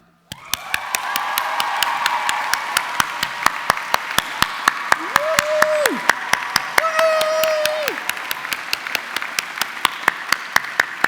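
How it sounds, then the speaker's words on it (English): Graduation ceremony audience applause in a large hall, a broad wash of clapping with sharp individual claps standing out, and a few whoops rising above it partway through. "If anyone deserves a high round of applause today"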